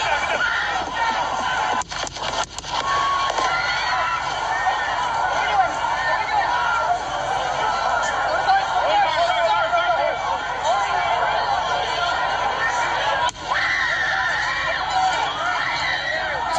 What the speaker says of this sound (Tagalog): Sigawan sila.